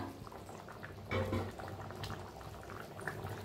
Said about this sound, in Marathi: आता एक 5 मिनिटं झाकून शिजवूया आपण.